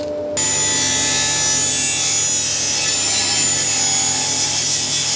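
A loud, continuous power saw cuts oak pieces for a camper van kitchen worktop, close up and starting abruptly after a brief quiet moment, with no talking.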